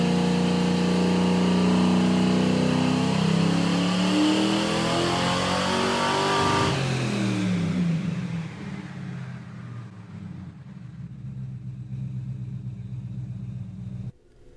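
A 1974 Chevy Nova engine on a dyno roars loudly as it revs up through a full pull, the pitch climbing steadily, then drops back to a lower idle-like rumble before cutting off.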